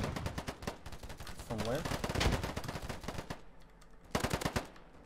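Rapid automatic gunfire in the shooter game Polygon, an AK-47 spraying in dense bursts through most of the stretch, a louder volley near the end, with a player's voice speaking briefly over it.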